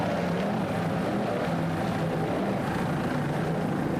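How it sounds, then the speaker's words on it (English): A Fountain powerboat engine throttles in a steady, loud, continuous roar with a low droning hum, heard from a distance at a 2002 powerboat racing event, with no talk over it. "Nice throttling there by Matt Rice."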